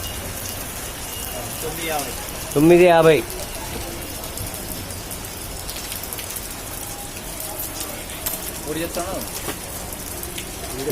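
Steady rain patters over a wide area of Kadapa's Seven Roads neighbourhood, a continuous hiss, while a voice speaks briefly over it and a few faint vehicle sounds pass.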